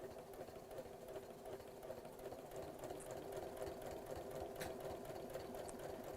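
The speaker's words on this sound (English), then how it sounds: "very carefully sew around the curves" A sewing machine stitches steadily around the curved edges of a buttoned cushion cover, a continuous close mechanical whir with a light rhythmic chatter throughout, no talking over it.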